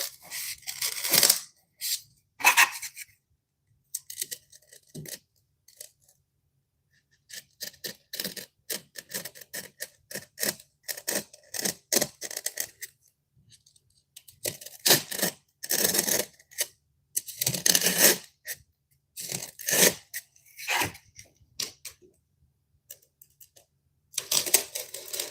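Knife cutting through a clay sculpture of cats, a run of close, dry scraping and clicking cuts in short irregular bursts separated by quiet pauses.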